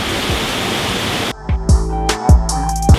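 A waterfall pours as a steady, loud broadband rush that cuts off abruptly partway through, followed by a few sharp knocks and clicks in near silence.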